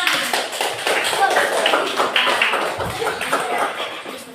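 A group of children claps their hands in quick, busy, overlapping taps, with voices talking over the clapping throughout.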